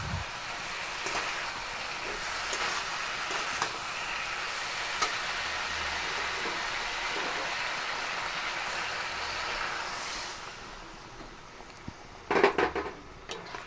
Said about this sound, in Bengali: নাড়াচাড়া করে জল দিয়ে দেবো